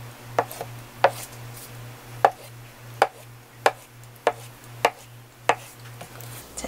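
A kitchen knife cuts a 300 g block of tofu into small pieces, striking the cutting board in about ten crisp, evenly spaced chops over a low steady hum, with no speech.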